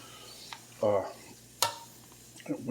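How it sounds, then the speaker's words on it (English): A spoon stirs a spicy sausage pasta mixture in a pan, giving a few short scraping, sloshing strokes with soft sizzling between them, close and moderately loud. "we're just gonna mix these up"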